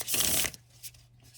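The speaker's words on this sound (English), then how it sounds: "I'm going to give it a shuffle here." A deck of tarot cards being shuffled, a close riffling burst lasting about half a second followed by a couple of softer card flicks, heard alone without talk.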